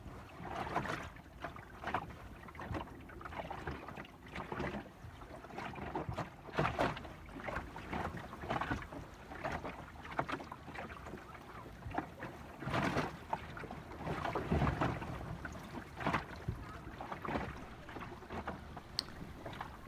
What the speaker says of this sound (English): Now we're going to sail through between the rocks and through this little passage here